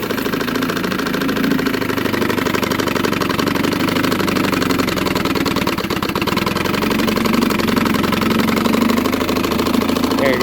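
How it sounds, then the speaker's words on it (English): A 1961 Johnson 10 hp tiller outboard boat motor idles smoothly and steadily, a close, continuous mechanical drone with an even firing rhythm and no misses, running alone without talk. "Idle's nice and smooth, doesn't miss."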